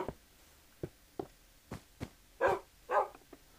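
Dogs barking in the video game Minecraft: a series of short, sharp barks at a steady pace, the last two louder and fuller, with no talk.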